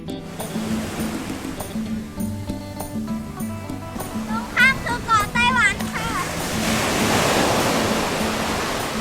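Surf breaks and washes on the beach at Xiamen, building to a broad steady roar of waves toward the end, while someone talks over the earlier part and other voices chatter in the background.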